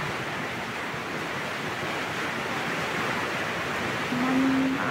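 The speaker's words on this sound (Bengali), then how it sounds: "তারপর আমি পেঁয়াজ, আদা, রসুন ধুয়ে নিচ্ছি মাংসের জন্য।" Running water splashes steadily and close while onion, ginger and garlic are rinsed for meat in a home kitchen, a broad continuous rush that swells slightly louder near the end.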